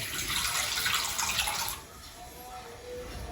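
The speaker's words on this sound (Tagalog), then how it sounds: "Ngayon, dagdagan natin ng tubig." Water pours steadily into a simmering pot of sinigang soured with batuan fruit, running for under two seconds before cutting off and leaving only a faint kitchen hush.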